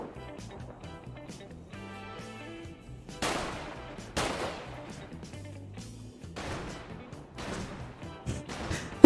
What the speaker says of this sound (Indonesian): Tembak-tembakan pintu